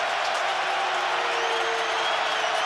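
Steady roar of a stadium crowd at an NFL game, Kansas City Chiefs at Baltimore Ravens, a dense continuous wash of cheering holding level throughout with no clear individual voices.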